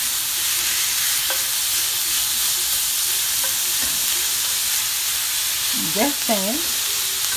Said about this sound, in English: Non-frozen meat. Cook that up.